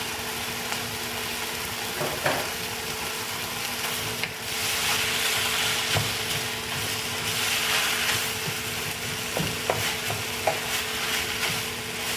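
Chicken and pickled bamboo shoots stir-fried in a pan: a steady, loud sizzle with scraping stirs and occasional clinks of the utensil, continuous throughout with no talk.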